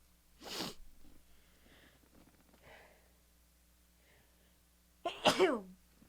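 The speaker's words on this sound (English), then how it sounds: "Confirmation sneeze." Two sneezes in a quiet room: a sharp one at the start, then a louder, breathy one near the end with soft rustling between.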